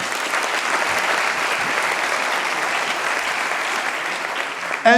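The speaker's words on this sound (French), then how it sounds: "On peut applaudir le président Henke Kroon" Dense, steady audience applause fills a large event hall at an anniversary gala evening, sustained and loud for several seconds before ending abruptly with a brief different sound at the close.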